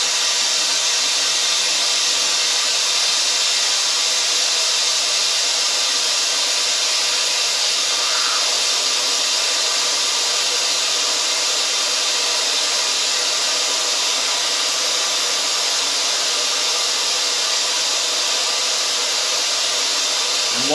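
An air-powered vacuum adapter draws down a Ford coolant system, giving a steady, loud, unbroken hiss and whoosh of rushing air that holds constant throughout.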